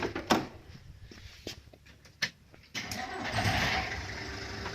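A Perkins diesel engine on a Plymouth starts with scattered knocks and clicks, then settles into a steady idle at normal speed, a moderately loud, even rumble nearby.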